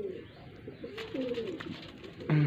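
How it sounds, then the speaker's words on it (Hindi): A yellow-eyed pigeon gives soft, low cooing calls close by against quiet background noise, with a louder coo near the end. "ये कबूतर है"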